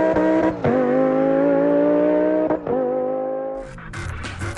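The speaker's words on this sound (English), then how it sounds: "Fascinating full-throttle laps from Spain's earliest days of motorsport." A vintage race car from the early days of Spanish motorsport runs full-throttle laps. Its engine gives a loud, sustained buzzing roar that dips briefly at gear changes and fades toward the end.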